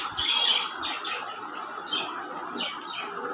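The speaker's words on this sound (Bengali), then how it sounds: "এটা হলো আসলে আমাদের একটা কবুতর" Racer pigeons calling close by in a steady, overlapping stream of soft chirps and coos, with no talking.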